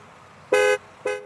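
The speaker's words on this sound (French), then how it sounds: "Pourquoi tu klaxonnes comme ça?" A car horn gives two short toots, the first slightly longer, close and clear against a quiet background.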